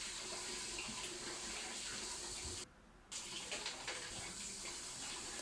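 Water runs in a steady loud gush into a pan holding chicken and flour, filling the frame with a rushing pour that briefly drops out midway before resuming.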